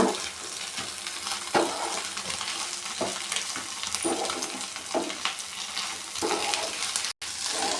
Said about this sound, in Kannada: ಎರಡು ಒಟ್ಟಿಗೆ ಚೆನ್ನಾಗಿ ಫ್ರೈ ಮಾಡ್ಕೊಳ್ಳೋಣ